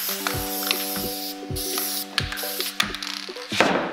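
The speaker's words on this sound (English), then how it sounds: "We're going to be using spray adhesive, so it's in a green bottle." Spray adhesive from a green can hisses in short repeated bursts onto a screen printing platen, with a steady machine hum running underneath.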